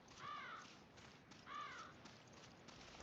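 Two loud crow caws, one early and one about a second later, echo over a low ambient background in the survival horror video game Resident Evil Revelations.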